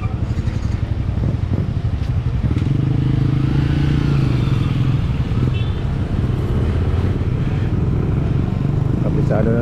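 A motorcycle engine runs steadily and loudly nearby at a seaside boat landing, its rumble continuous under occasional clatter and people talking.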